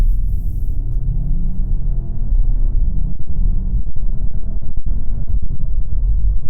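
Engine of a 2021 CUPRA Formentor 310 4Drive, a four-wheel-drive crossover, pulling hard away from a junction: a loud, steady low rumble building through the run, with brief dips that could be gear changes and no talking.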